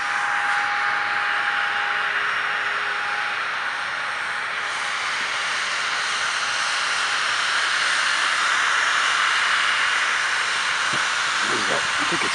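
Sunwing Boeing 737-800 airliner at Montreal Pierre Elliott Trudeau Airport at night, heard as a steady, loud broadband jet roar with hiss throughout, plus a faint whining tone early on.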